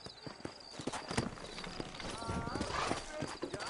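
Horse hooves clip-clop at a steady walking pace in Red Dead Redemption, close and clear, mixed with game background ambience and someone speaking over them.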